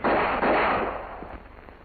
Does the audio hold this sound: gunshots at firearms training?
yes